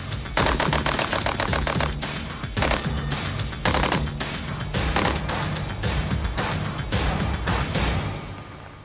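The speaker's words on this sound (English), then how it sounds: "Because the BAR's rate of fire is a little slower, it's more controllable." A BAR rifle fires in a video game in loud, sustained automatic bursts with a moderate rate of fire, broken only by brief pauses between strings of shots.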